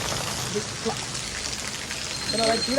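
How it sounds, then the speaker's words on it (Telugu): Heavy rain pours down in a dense, constant roar, with a few faint voices and small knocks mixed in near the end. "ఫుల్ వర్షం పడుతుంది"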